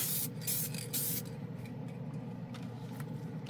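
Glidden Max-Flex spray paint hisses from an aerosol can onto black plastic in a few close, steady bursts, the early sprays strongest and later ones softer.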